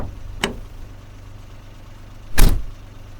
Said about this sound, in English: At noon, a company car from Smiling Village arrived.